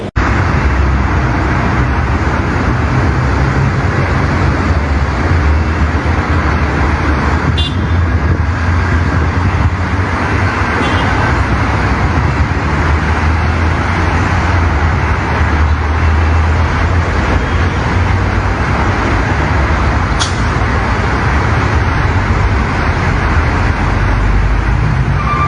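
Steady road traffic on a highway toward Jakarta during the 2022 Lebaran homecoming rush, with many buses among the vehicles, forms a continuous, dense roar of engines and tyres that holds at an even level throughout with no talking.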